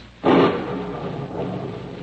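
A single rolling thunder effect from an old-time radio drama, a sudden loud crack fading into a long, lower rumble as a spring line storm approaches.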